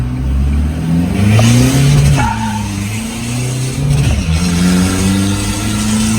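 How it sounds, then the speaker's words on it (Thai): A tuned 2020 Isuzu D-Max 3000 engine revs hard as it pulls away in first gear, a loud, close, continuous drone that climbs in pitch, drops at the gear changes and climbs again. "เดี๋ยวมาดูตอนอัตราเร่งตอนขับดู"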